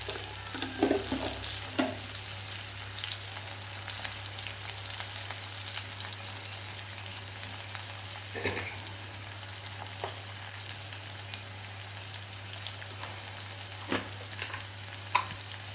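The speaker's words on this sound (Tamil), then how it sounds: "வெங்காயம் நல்லா வதங்கிடுச்சு" Onions and curry leaves fry in a pan with a steady broadband sizzle, broken by a few sharper stirring scrapes, fairly close with no talking.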